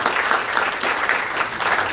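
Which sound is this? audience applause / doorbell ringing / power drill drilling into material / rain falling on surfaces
audience applause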